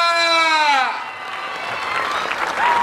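A crowd at an outdoor village wrestling match breaks into applause and scattered cheers after a loud announcer's shout at the start. The clapping stays dense and steady to the end.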